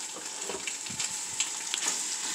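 Eggs sizzling and crackling in a hot pan for eggs in green chile sauce, a steady soft frying hiss with small pops, quiet and close, no voices.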